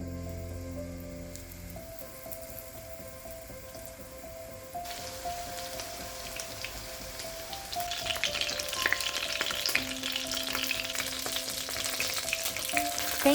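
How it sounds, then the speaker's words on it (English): Chicken fillet frying in a mix of vegetable oil and olive oil, a steady close sizzle that grows louder and crackles more intensely partway through, with faint background tones and no voices. "Fry the on both sides until golden brown, about 5 minutes per side"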